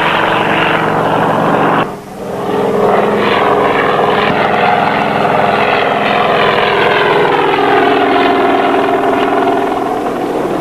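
Coast Guard helicopters fly overhead with a loud, sustained rotor and engine drone that dips briefly then swells, its pitch slowly shifting as the aircraft pass.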